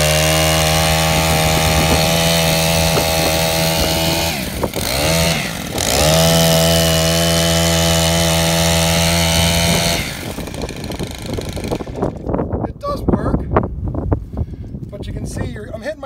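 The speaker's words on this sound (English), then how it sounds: "got the sweeper attachment on with the bristle brushes, as you can see" A Stihl Kombi power broom with a bristle brush sweeper attachment runs loud and close on a lawn, holding a steady engine drone that dips briefly midway, then turns rougher and choppier toward the end.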